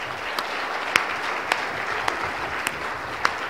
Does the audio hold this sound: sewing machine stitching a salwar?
no